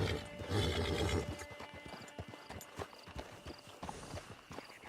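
Horse hooves clip-clop in Red Dead Redemption 2 Online, a quick run of rhythmic hoofbeats that follows a louder rustling burst at the start. The hooves sound moderately close over a steady game ambience.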